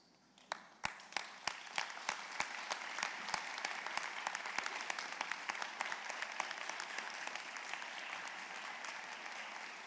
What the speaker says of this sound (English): please stand and give your families a round of applause